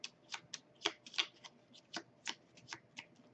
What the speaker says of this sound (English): shuffle up the deck